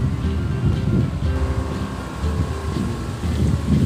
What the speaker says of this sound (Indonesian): Kita lihat dulu kalau setengahnya bagaimana pengeluaran airnya.